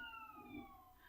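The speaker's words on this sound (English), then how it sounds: "I don't know if you guys can hear the sirens," Sirens wail in the distance, several faint rising and falling tones drifting steadily underneath quiet background noise, with no nearby voices.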